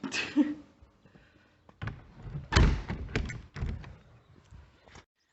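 A toilet compartment door on a narrowboat swings shut with a solid thunk, followed by a few softer knocks and rattles nearby, all close and moderately loud with no talking.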